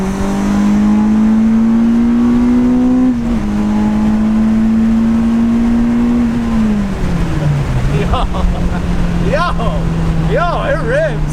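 A Honda Civic EP3 Type R engine revs loudly while driving, a strong droning note climbing steadily, dipping at a shift, then settling lower, with some voice sounds near the end.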